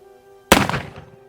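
A single loud gunshot from a Pietta 1858 Bison black-powder revolver goes off close by, with a sharp crack that tails off over about half a second.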